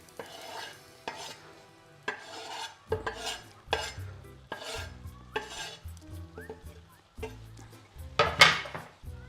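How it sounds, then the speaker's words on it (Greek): Corn kernels and ginger stirred in a pot with a wooden spoon for a creamy corn soup: a steady series of scraping, clattering strokes about once a second, close and fairly loud, with light sizzling underneath. "Ανακατεύουμε."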